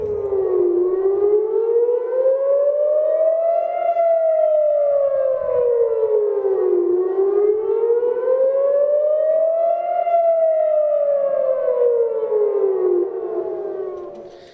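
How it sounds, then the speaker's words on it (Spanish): Civil defense air raid sirens warning of incoming missiles in Israel, a loud continuous wail rising and falling in slow cycles of about six seconds, heard alone and fading at the very end. "A diario decenas de sirenas suenan por Israel cuando un misil es detectado para posteriormente derribarlo."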